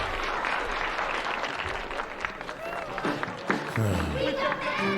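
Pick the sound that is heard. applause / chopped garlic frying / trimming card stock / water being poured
applause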